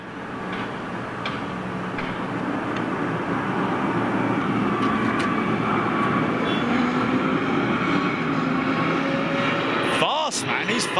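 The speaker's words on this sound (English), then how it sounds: "Virgin Atlantic Dreamliner" A Virgin Atlantic Boeing Dreamliner jet on a low departure, its broad, steady engine roar filling the whole stretch at a loud, constant level with a brief sharper disturbance near the end.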